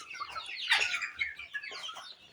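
Young native chickens, about two months old, cluck and chirp up close while eating their midday feed, a scattered chorus of short calls over a faint background, with no talking.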